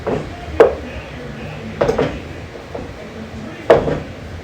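Ground beef being broken up and lightly browned in a pan before pressure canning, with a few sharp scraping and clacking utensil hits against the pan over a low sizzle, spaced irregularly.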